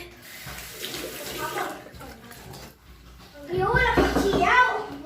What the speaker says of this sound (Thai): เราไปล้างหน้าล้างตาในห้องน้ำก่อน